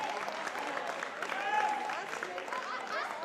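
Crowd applause at a powerlifting invitational for the women who set personal records, a dense, even wash of clapping with some chatter and cheering underneath, sustained at a moderate level.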